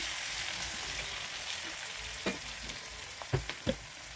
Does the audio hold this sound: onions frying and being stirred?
yes